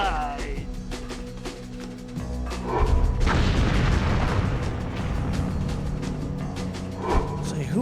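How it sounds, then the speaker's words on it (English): Missile launcher explosions in the PS2 video game Rogue Ops, heavy booming blasts at about three and seven seconds, loud and broad, rolling over a constant bed of game sound and music. "Who is shooting the missile launcher?"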